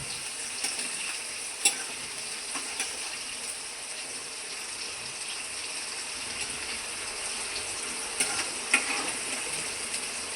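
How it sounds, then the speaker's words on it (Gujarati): Chopped chillies sizzle and fry in oil in a pan for Surti khaman, a steady close crackle with a few sharp stirring clinks against the pan. "મરચાં થોડાક તળાઈ જાય ને પછી આમાં છે ને ખાંડનું પાણી નાખવાનું છે."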